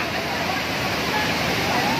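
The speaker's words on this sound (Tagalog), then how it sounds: "Kami sa yung Taytay Falls." Taytay Falls in Majayjay, Laguna, pours with a steady, close roar of rushing water that fills the air without a break, with faint chatter beneath it.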